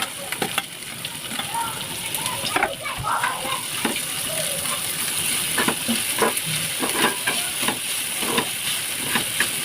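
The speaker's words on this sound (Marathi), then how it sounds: "कांदा व्यवस्थित तेलामध्ये फ्राय करून घ्यायचा आहे" Finely chopped onions frying in oil in a pan, a close, steady sizzle broken by irregular stirring scrapes and soft bubbling bursts.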